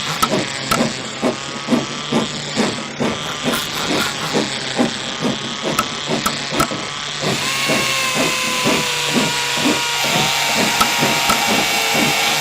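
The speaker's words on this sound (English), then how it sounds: "you drill down into it, all the different holes all the way through" A power drill bores a series of holes into wood, with regular repeated short bursts of whirring and crunching followed by a steadier, sustained whine, close and alone.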